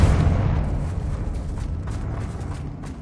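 Confringo spell exploding in Hogwarts Legacy on PS5, a loud close burst that opens the clip and fades into a rumbling, crackling decay.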